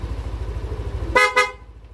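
Loud aftermarket horn on a motorcycle, two sharp blasts close by over a steady idling engine, the second soon after the first, with the engine continuing after.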